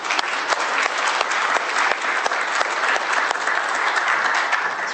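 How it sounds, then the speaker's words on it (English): A forum audience at a cultural heritage conservation event in Hamilton applauds Dale Brown, a steady, dense wash of clapping from many hands that holds at an even level throughout with no voices standing out. "a round of applause if you don't mind"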